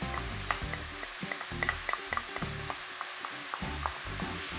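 Chicken mince frying and sizzling in a pan with finely chopped ginger, crushed garlic and spring onion, broken up with a utensil, with a steady crackling fry under repeated sharp scraping and tapping strokes; no voices.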